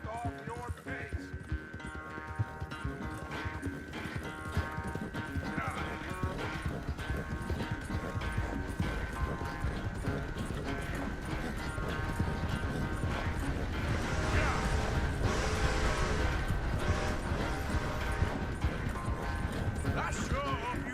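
Horse hooves clip-clop in a steady, continuous rhythm while riding in Red Dead Redemption 2, with tack creaking and a music bed underneath as characters talk over the ride.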